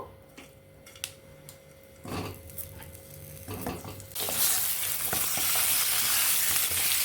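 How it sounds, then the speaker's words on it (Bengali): Pointed gourd (potol) frying in a little oil in a wok: scattered scrapes and clanks of stirring, then a loud, dense hiss of sizzling oil that swells and holds steady to the end. "বেশি লাল করবো না, হালকা করে ভেজে নেব।"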